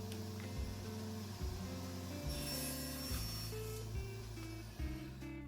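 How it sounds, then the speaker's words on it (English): Wood boards are cut to final length on a table saw with a miter sled, a loud steady motor hum with the blade's tone dipping and shifting as each cut passes through. "To cut the boards down to final length, I like to use my AutoScale miter sled."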